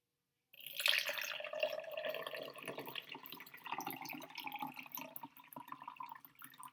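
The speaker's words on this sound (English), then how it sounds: "So I'm going to pour the water inside here." Water pours into a container after a brief silence, a close, steady splashing trickle that shifts in pitch as it fills.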